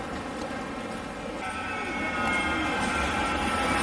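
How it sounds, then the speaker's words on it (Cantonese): A street tram rumbles past in Manchester with a steady rolling hum and metallic whine that grows louder partway through; no voices. "即係呢啲路軌電車啊， 呢啲路軌電車"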